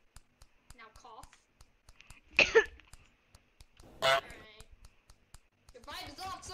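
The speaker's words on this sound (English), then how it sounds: "Now cough." A person gives a couple of short coughs during a gaming session, with small clicks scattered around them and some talk near the end.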